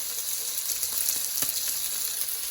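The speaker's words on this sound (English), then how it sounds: "I'm just doing my bacon on the stove this time." Bacon frying in a pan on a stovetop, a dense continuous hiss and crackle heard close and alone.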